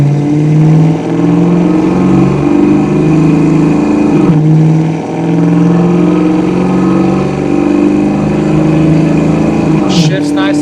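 Engine of a 1988 Ford Mustang Saleen convertible accelerating hard on a test drive, a loud, close, continuous roar that climbs in pitch through the gears, with a brief dip at a shift and a faint rattle near the end.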